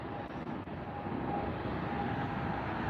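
At LAX airport in Los Angeles, a steady broadband jet roar of aircraft fills the air, loud and continuous with a faint tonal whine, with no talk.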